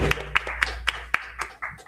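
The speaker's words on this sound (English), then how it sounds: "Would you like a round of applause for her too?" A small group claps for a workshop panelist in an anti-racism workshop, giving a few sparse, separate claps close by for about two seconds with faint background murmur.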